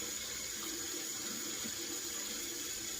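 A bathroom tap runs steadily to wet a shaving brush, a constant broadband rush of water at moderate level with no pauses and no voices.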